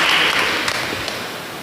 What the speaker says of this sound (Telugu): కాబట్టి వారిని మంచిగా ఆహ్వానిస్తూ సాధారణంగా చప్పట్లతో స్వాగతిద్దాం